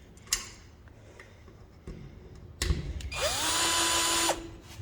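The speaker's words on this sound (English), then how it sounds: "let me go get the drill" Cordless power drill driving screws into an electric box, a short whir and then a longer sustained spin that winds down, close by and loud, with a few clicks and knocks before.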